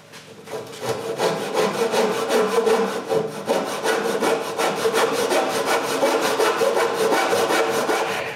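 A saw cuts cedar boards for a patio table along marked lines, a close, rhythmic rasping of rapid back-and-forth strokes that holds steady for several seconds.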